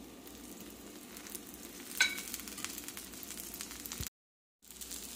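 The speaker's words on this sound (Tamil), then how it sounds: "இப்போ தோசை ஊற்றிருக்கேன் இதில் கொஞ்சமாக எண்ணெய் சேர்த்துக்கலாம்" A horse gram dosa cooks in oil on a pan, giving a steady low sizzle with light crackles and one sharp clink, then a brief cut to silence before the frying resumes.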